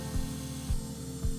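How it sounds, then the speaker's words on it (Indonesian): A power grinder shapes an accessory made of mangrove wood and hardened resin, giving a steady whining hum with three evenly spaced heavier grinding pulses as the tool bites; no one speaks. "dirapikan bentuknya dengan gerinda"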